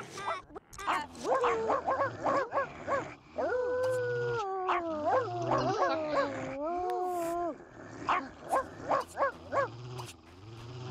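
Dogs in The Sims Castaway video game bark in rapid bursts and break into a long, wavering howl midway, fairly loud, with a person talking at times.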